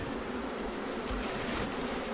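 Killer bees swarm inside a shed where their brood is being removed, making a continuous, close droning buzz at a steady level.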